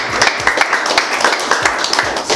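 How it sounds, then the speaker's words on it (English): A small group at a real estate networking event claps close by, with a loud, brisk patter of individual claps welcoming a newcomer. "So let's give him a round of applause."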